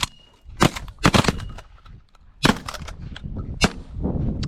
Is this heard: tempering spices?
no